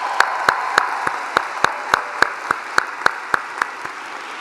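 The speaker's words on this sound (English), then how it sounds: "Can we just give them a round of applause again?" A crowd at a UCSF School of Nursing commencement claps in a steady, fairly even rhythm, sharp hand claps repeating about three times a second, with no talking.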